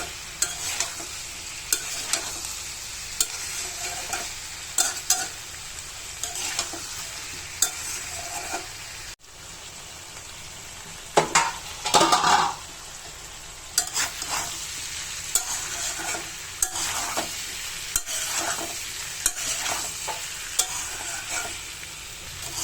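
Sweet pumpkin bhaji frying in a pan: a steady, close sizzle with spatula strokes scraping and stirring at irregular intervals over a long stretch, including a brief busier burst of stirring midway. No voices.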